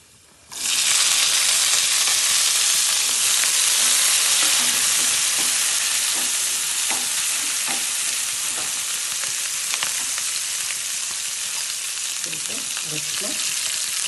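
Garlic and long-sliced onions fry in a hot pan for an Indian lentil dish. A loud, steady sizzle starts abruptly and holds throughout, with occasional soft clinks and stirring scrapes.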